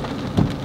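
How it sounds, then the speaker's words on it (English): Rain pours steadily, a brief close wash of falling water with a slight surge midway. "here comes the rain"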